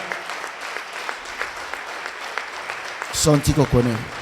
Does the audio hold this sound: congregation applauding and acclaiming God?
yes